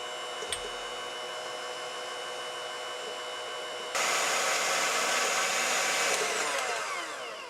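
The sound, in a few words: electric mixer beating egg whites with salt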